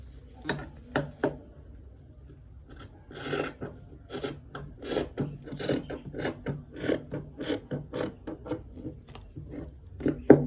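Scissors snipping through excess fabric after stitching a V-neck inner pocket, a series of sharp close cuts in an uneven rhythm, faster in the second half, with no talk.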